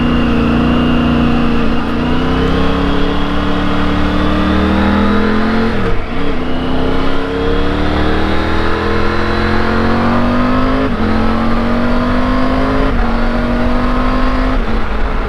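A 2021 Triumph Tiger 900 GT Low's triple-cylinder engine pulling hard and loud while riding, its revs climbing smoothly through repeated upshifts with brief dips between gears, heard alone without talk.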